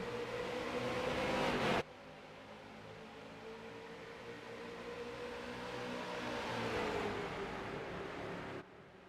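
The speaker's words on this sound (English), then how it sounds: "these starts, the engines take a while to really sound good and get up to full song" Race car engines in an iRacing stock car race at Charlotte, accelerating together on a restart, heard as a steady, buzzy droning roar that swells slightly and holds at a moderate, even level.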